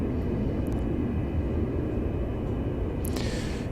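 A CaptainSim L1011 Tristar airliner taxiing in a flight simulator, a loud, steady jet engine rumble and whine that carries throughout, with a couple of brief higher clicks near the end.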